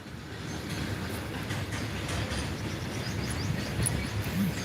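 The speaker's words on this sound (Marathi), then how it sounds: "इथून रेल्वे जाते बस पटरीजवळ राहतो आम्ही" A train rumbles steadily past on the tracks, a continuous low roar with faint clattering and a few distant birds.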